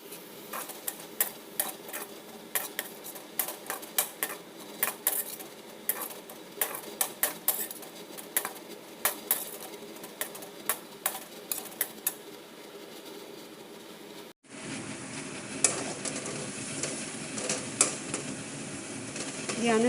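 Onions stirred with half a teaspoon of salt in a dry pan, no oil, for a pasta dish: a close run of quick scraping and clinking strokes that turns into a steadier, denser rasp near the end.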